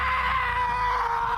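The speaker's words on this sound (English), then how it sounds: "I'm going to scream now because I can't hold it in" One person lets out a single loud, sustained scream that holds steady without a break.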